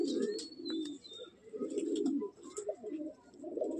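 Madrasi pigeons in a loft give repeated low, throaty coos in rolling bursts, close and fairly loud, with faint higher chirps over them and no talking.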